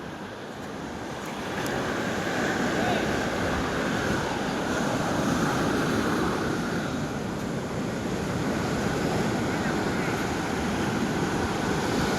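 Sea waves wash and roar continuously onto a Konkan shore in the rain, swelling slightly after the start, with wind rumbling across the microphone throughout; no clear talking.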